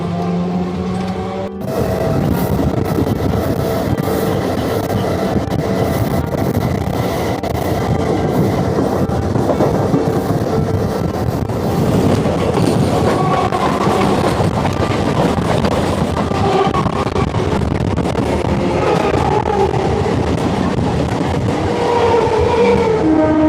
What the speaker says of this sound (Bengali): এখন আমার ট্রেনটা জগদ্দল রেলওয়ে স্টেশন থেকে ছেড়ে দিল